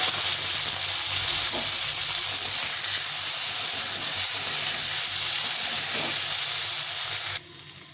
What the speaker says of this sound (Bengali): এখন এই তেলে আমি আলুটা একটু ভেজে নেব।